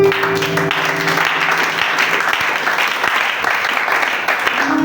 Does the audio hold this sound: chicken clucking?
no